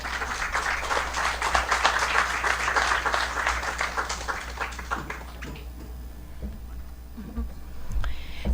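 An audience at a university lecture in Peru applauds to welcome a professor, dense clapping for about five seconds that fades out, followed by faint room noise and light taps.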